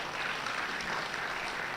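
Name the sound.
audience clapping at education summit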